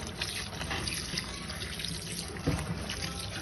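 Running water from a tap washing grated bottle gourd for raita in a kitchen sink, a steady, faint splashing stream throughout with a small splash near the end.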